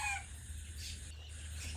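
Soft, distant clucks of month-old Tiger chickens over a low steady hum at a farm in Ullapara, Sirajganj, faint and sparse.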